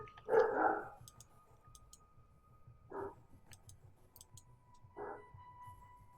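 A dog barks in the room during StarCraft game commentary: three separate loud barks spaced about two seconds apart, close by, with faint clicking and a steady low hum underneath and no talk.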